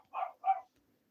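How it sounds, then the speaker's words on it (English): A dog barks twice in quick succession, faint and some distance away, followed by silence. "You hear barking."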